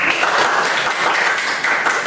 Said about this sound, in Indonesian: kita berikan lagi tepuk tangan untuk kelompok